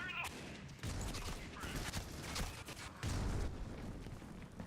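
Bursts of AK rifle gunfire from a video game esports match, rapid overlapping shots in clustered volleys at moderate level, mixed with an excited commentator voice.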